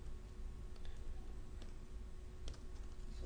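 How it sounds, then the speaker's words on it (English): Quiet typing on a computer keyboard, a quick run of light key clicks over a soft room hiss. "we will just type"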